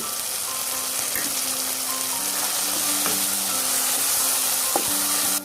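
Tomatoes and biryani spices sizzle and fry steadily in hot oil in a pan, with occasional stirring clinks, a close and continuous crackle with no talking.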